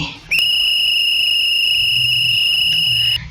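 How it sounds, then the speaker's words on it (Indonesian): One long, steady blast of a whistle held for about three seconds, loud and close, with a piercing tone that starts and stops sharply. "Nah, itu adalah bunyi peluit."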